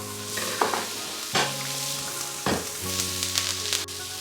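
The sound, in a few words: kottu ingredients frying in oil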